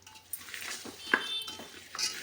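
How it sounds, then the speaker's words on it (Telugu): A spoon scrapes and taps against a vessel while chili powder and masala are mixed into chicken biryani ingredients: soft, close clinks and shuffling stirs in an uneven rhythm. "ఇదంతా ఇట్లా కలుపుకోవాలండి మంచిగా గట్టిగా మంచిగా కలుపుకోవాలి"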